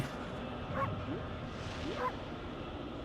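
Two short, yipping barks from a wolf in the video game Okami sound about a second apart over a steady low hum, moderately quiet.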